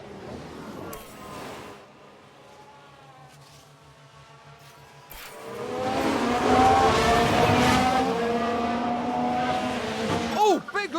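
Racing car in the F1 Manager 2022 video game locking its tyres and skidding, engine noise swelling into a long squealing screech in the second half, with commentary voices running throughout.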